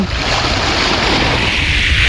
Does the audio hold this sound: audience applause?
no